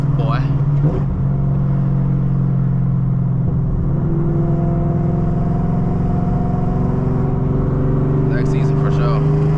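Supercharged Chevrolet Camaro ZL1 engine heard from inside the car while driving, a loud steady drone with rising harmonic tones as it revs and holds, while people talk briefly.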